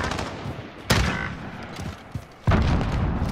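Two loud, sharp shotgun blasts in a multiplayer video game crack out over a busy, noisy game mix, each a sudden broadband burst with a short decaying tail.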